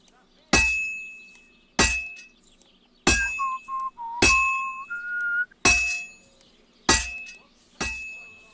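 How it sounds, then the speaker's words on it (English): In Kingdom Come: Deliverance II, a smith's hammer strikes a heated sword on an anvil seven times at an uneven pace, each blow a sharp metallic clang with a ringing tail; a brief whistled tone sounds between the middle strikes. "Now take the hammer and try hitting it a few times."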